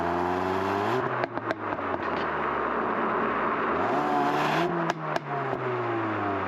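A Ford Focus ST engine hums steadily and swells in pitch as it revs, with a few sharp exhaust pops and bangs cracking out near the start and again toward the end.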